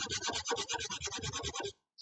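A file rasps a chamfer into a handle in quick, even back-and-forth strokes, close and fairly loud, then stops abruptly just before the end.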